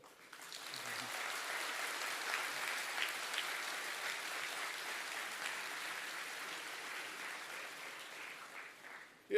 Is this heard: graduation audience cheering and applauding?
yes